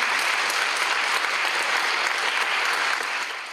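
Audience applause at a closing-night event for a culture and mental health project, a dense, steady clapping from a crowd filling the whole stretch before tapering slightly at the end.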